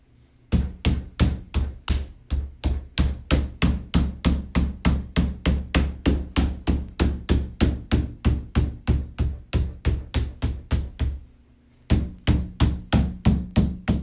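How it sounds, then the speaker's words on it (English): Rubber mallet knocking together the pieces of a three-layer, 15-inch-high chicken cage during assembly, a long run of steady, evenly spaced, close, sharp taps with a brief pause near the end before tapping resumes. "come in with your mallet again"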